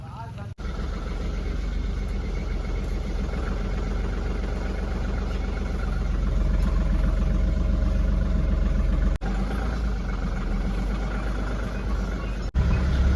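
A tempo delivery vehicle's engine runs steadily and loud up close, a continuous low drone broken by a couple of brief dropouts, with voices talking over it.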